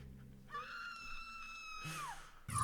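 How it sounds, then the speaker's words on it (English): A canned scream effect from the PS2 video game Ghosthunter, a single high drawn-out shriek that rises, holds and then bends downward before cutting off, fairly loud against quiet background. "the canned scream"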